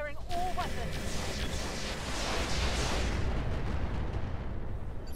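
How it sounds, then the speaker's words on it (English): A mech firing all its weapons in Roguetech, including plasma cannons and an MRM-10 missile launcher: a sustained, roaring barrage of booming impacts and rushing blasts over a few seconds, with a brief electronic chirp at the start. "Firing all weapons."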